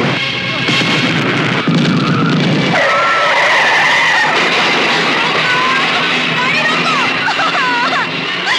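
Car tires skidding and screeching during a movie chase scene, loud wavering squeals over engine noise and dramatic music, with people shouting over them.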